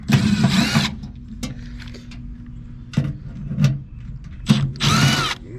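A power drill whirs in three separate bursts, loud and close, as screws are backed out to open up a 39-year-old Carrier air conditioner unit, with short pauses and faint clicks between the runs.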